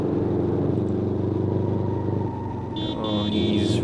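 Car engine in BeamNG.drive, held at moderate steady revs with a dense continuous drone and harmonic hum, dipping briefly before a higher whine rises near the end.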